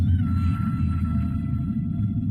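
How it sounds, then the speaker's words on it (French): A humpback whale calls in long, drawn-out tonal moans over a dense, rumbling underwater wash, steady and fairly loud throughout. "ou encore la gigantesque baleine à bosse."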